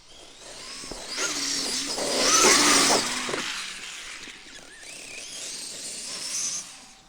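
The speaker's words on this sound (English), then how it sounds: "Let's do a flyby." A Traxxas X-Maxx RC truck with a belt drive whines past in a flyby, its motor pitch swelling as it nears and fading as it pulls away, then rising briefly once more.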